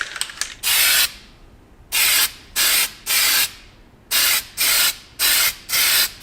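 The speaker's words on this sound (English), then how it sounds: "it has the tip that sprays as a fan" A Duplicolor spray can of undercoat with a fan-pattern tip, loud close hissing bursts in a series of about nine, each roughly a half second, separated by short pauses.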